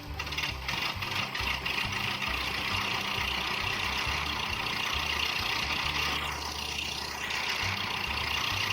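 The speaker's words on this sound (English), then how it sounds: "So we can hit sell, and we can hear the truck." A truck engine in a VR farm video game runs steadily with a mechanical, ratcheting rumble, loud and continuous, with a faint swooping tone near the end.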